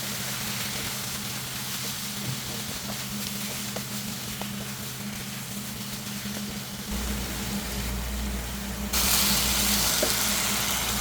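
Onion paste cooking in a pan over a moderate flame for a boneless chicken handi, a steady soft sizzle and hiss throughout, growing slightly louder and brighter toward the end.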